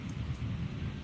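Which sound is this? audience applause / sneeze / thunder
thunder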